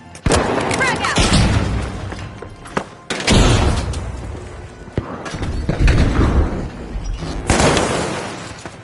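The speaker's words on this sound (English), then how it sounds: "Frag grenade sent! Frag out!" Several heavy booms and thuds from a frag grenade going off in the shooter game The Finals, loud and close, with bursts of noise separated by short gaps.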